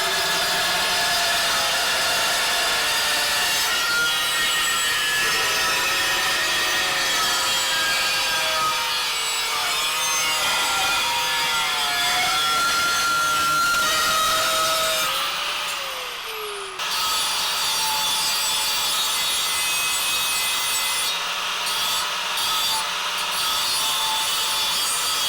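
Steel knife blade being cut to shape for a homemade 1917 frontier Bowie knife, a continuous rasping, sawing grind of metal on metal that runs loud and steady for the whole stretch with no talking.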